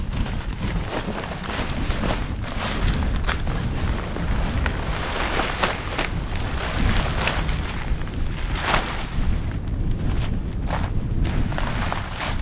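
Strong wind gusting across an open frozen lake during an ice fishing and hot tent camping trip, a loud continuous roar with buffeting mic noise and rustling, with no talk.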